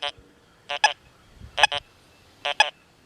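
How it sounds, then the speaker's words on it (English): XP Deus 2 metal detector on the unmodified Sensitive FT program giving short pecking signal tones, three quick double blips spaced about a second apart over a quiet background. "using the unmodified sensitive FT, I hear that little peck sound"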